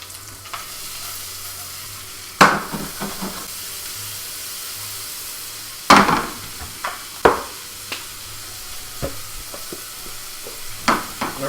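Onions frying in a little oil make a steady low sizzle, broken by sharp crackles and pops at irregular intervals. No one speaks.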